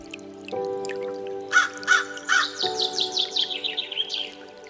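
A crow caws in a dense cartoon forest, a run of loud, harsh calls repeating quickly over a steady musical background, close and clear, with no talk.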